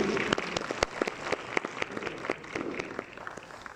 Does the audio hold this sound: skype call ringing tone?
no